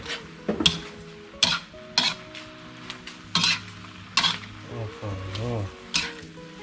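Thai Shan-style yellow noodles are stir-fried in a pot, with repeated scraping strokes of a utensil against the metal over a soft sizzle, and someone talks between strokes.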